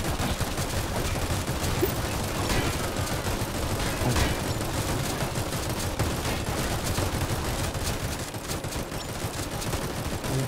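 Rapid bursts of gunfire crackle almost nonstop in a Roblox game, dense overlapping shots with the sharp, compressed quality of game audio, and no clear speech.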